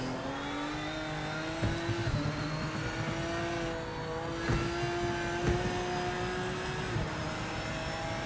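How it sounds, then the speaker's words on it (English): A race car engine drones in the video game Project Motor Racing, a steady high-revving whine that holds pitch with a few gear-shift steps and brief bumps, continuous and fairly loud. "I think the car sounds are nice."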